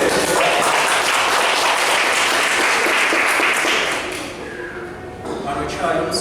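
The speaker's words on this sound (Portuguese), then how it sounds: "7 fatos de Wagner, um aplauso para ele." Audience applause at a Hyper Island PPT Party presentation evening, a dense wash of clapping that fills the room at full volume for several seconds, then thins out slightly toward the end.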